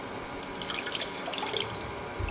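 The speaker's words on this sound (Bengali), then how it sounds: "দেখো চা খাওয়ার বাসনগুলো এখন মাজবো" Tea dishes are washed under a running tap, with continuous splashing and dripping water close by and no talk.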